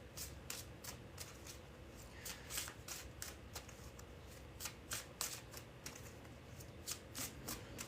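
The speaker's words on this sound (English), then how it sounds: "I must shuffle the cards back into the deck" Tarot cards shuffled back into a deck, giving a quiet, steady riffling with repeated crisp bursts across eight seconds and no talk.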